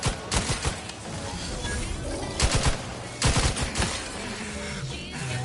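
Rapid automatic gunfire in the video game The Outer Worlds 2, dense bursts of loud, close shots and fusillades running almost continuously with brief gaps between volleys.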